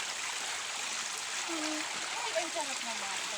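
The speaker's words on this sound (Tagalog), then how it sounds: "Ang lakas ng tubig" Creek water flows strongly over rocks as a steady broadband rush that fills the whole clip, with a brief voice murmuring faintly underneath.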